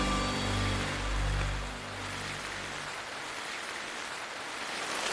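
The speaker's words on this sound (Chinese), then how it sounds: "大雨真的是， 这个雨有点突然啊。" Sudden heavy rain at a Shanghai street intersection during a typhoon, a dense, steady broadband wash close around the listener, with a low rumble easing off early and no one speaking.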